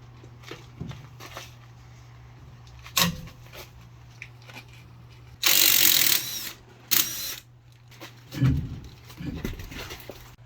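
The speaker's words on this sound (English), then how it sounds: "Take our 13/16, pop the wheel off." Wrench with a 13/16 socket removing wheel lug nuts on a first-generation Cummins truck: two loud, buzzing mechanical bursts of about a second each, with scattered clanks and a low steady hum.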